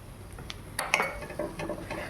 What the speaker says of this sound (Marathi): मिक्स करत थोडे त्याच्यात टाकत जाऊया